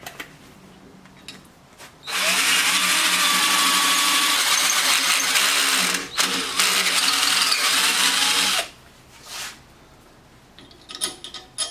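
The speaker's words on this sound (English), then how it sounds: "I'm going to attach to the bottom of the rack with these little self-tappers" A power drill drives small self-tapping screws into a bicycle rack, running as one steady, loud whine for several seconds with a brief dip midway, then stopping, with quiet handling noises before and after.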